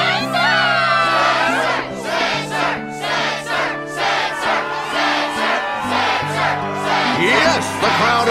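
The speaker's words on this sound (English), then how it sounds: "Yes, the crowd is fired up," Crowd cheering in the Kingdom Hearts 2 video game, a loud continuous wall of excited voices shouting and whooping together, pulsing in short bursts over a steady game music backdrop.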